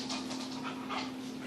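A dog pants rapidly and lets out a few soft whimpers, close by and steady, with a low electrical hum underneath and no talking.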